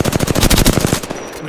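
Rapid automatic gunfire from Apex Legends, a dense burst of about a dozen close, loud shots in a fast even rhythm that cuts off after roughly a second, leaving a short tail.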